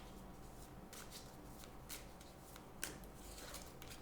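Tarot cards are handled in a quiet tarot reading, with soft crisp riffles and slides of the cards and a few sharper snaps as cards are drawn and laid down, close and intimate, without speech.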